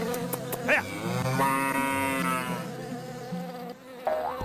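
A cartoon ox or cow lets out a long, loud drawn-out moo with a harmonic, buzzing tone, alone without talk.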